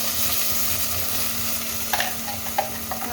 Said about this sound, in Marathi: गरम गरम तेलामध्ये पहा टाकायचं आहे आपल्याला कांद्याची पेस्ट